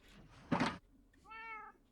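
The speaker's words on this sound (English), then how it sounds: "You cats are really loud." Cats meowing in the Minecraft video game, a burst of game sound followed by a clear, drawn-out meow standing alone with no talk over it.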